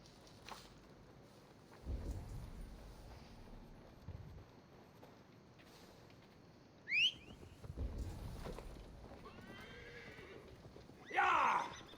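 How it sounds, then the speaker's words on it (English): A horse in Assassin's Creed Valhalla neighs twice, a sharp whinny midway and a louder one at the end, with low hoof thuds and ambient rumble between, no talk. "Now to deliver Magni his horse."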